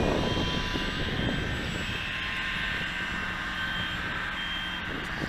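E-flite Apprentice S 15e electric RC model airplane flying at a park, a steady droning motor and propeller hum held at a fairly constant distance, loud and continuous.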